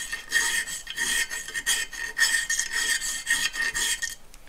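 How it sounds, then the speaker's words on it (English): A metal file rasps in quick, steady back-and-forth strokes, removing a burr from the edge of a Woodriver low angle jack plane, heard close up and alone. "I'm just going to go in there and file that"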